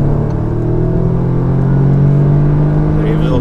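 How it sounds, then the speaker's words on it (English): A 2018 Audi S3 sedan in dynamic drive mode hums from inside the cabin, a steady engine drone with revs climbing gradually and holding high, heard alone without talk. "revs also get dragged, the gears also get dragged out a lot further"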